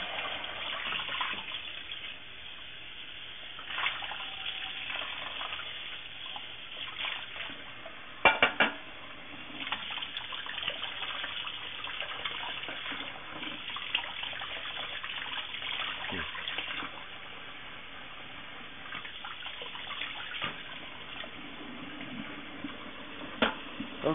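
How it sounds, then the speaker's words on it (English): Running water splashes steadily as pineapple is rinsed off NY strip steaks at a sink, a faint continuous wash with occasional knocks and clatters of handling. "And we're going to rinse all the pineapple off."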